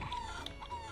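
Video game chickens in an RPG Maker jam game cluck and squawk in quick, agitated bursts, close and clear with no talking.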